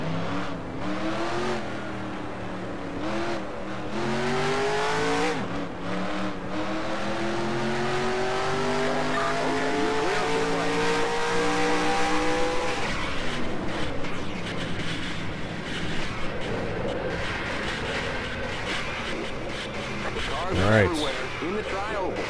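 Race car engine in the NASCAR Racing 2003 game, heard during a crash where the engine blows: a sustained rising engine drone with harmonic sweeps, loud and continuous, with speech over it and a brief sharp burst near the end.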